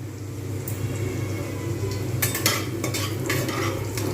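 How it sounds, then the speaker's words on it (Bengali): Whole cumin seeds and dried red chillies sizzle in hot white oil in a kadai while tempering for a vegetarian matar dal. There is a steady frying hiss with brighter crackling bursts in the second half, close and alone. "প্রথমে আমি এতে গোটা জিরে শুকনো লঙ্কাটা ফোড়ন দিয়ে দেবো তেল যেহেতু গরম হয়ে গেছে"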